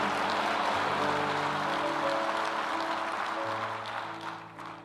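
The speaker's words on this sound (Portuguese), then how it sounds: "quem recebe, dá um aplauso a Ele e diga amém" Church congregation applauding together during a worship service, a dense steady wash of clapping with sustained musical tones underneath that fades toward the end.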